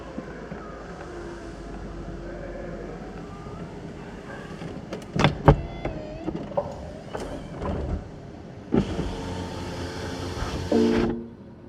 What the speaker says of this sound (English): The roof comes up.